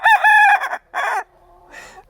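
A young rooster crows on its own, two strained, uneven bursts with a short break between them, close by and loud, trailing off into quieter clucking at the end.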